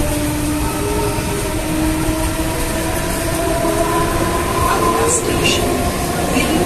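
A Mumbai local train pulls into Andheri station with a steady loud rumble of rail wheels and faint squeals over the carriage noise. Crowd chatter and voices can be heard in the background.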